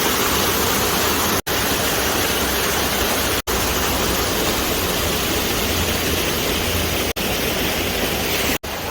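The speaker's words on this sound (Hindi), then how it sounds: "तो ये झरना इतनी ऊपर से आ रहा है कि नज़र भी नहीं जा रही" A mountain waterfall on the Kedarnath trek roars as a dense, steady, broadband rush, loud and continuous, broken only by a few brief dropouts.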